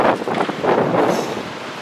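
Strong gusts of stormy wind batter the microphone in a continuous roaring rumble, loud and close, with no voices present.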